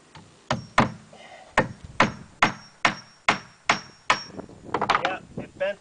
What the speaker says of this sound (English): So I want to nail them together.